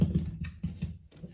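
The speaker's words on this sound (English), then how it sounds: "That was the sound of the magnet." A magnet clicks onto a metal extension socket hidden inside a wall while a TV cable is routed through, giving a few small, close clicks and knocks in quick succession over about a second.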